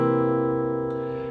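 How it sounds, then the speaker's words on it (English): A single C dominant 7 chord strummed on guitar rings out as one full, sustained strum that slowly fades, with no talking over it. "So the first one is C dominant 7"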